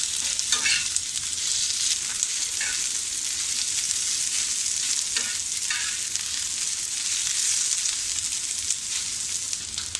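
Chopped onion sautéing in a pan until golden brown, a steady loud sizzle with occasional scraping stirs, alone without talk.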